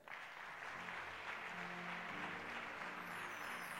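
A church congregation claps and applauds for Jesus in a sustained, dense wash of clapping that stays steady and loud throughout, with a murmur of voices mixed in.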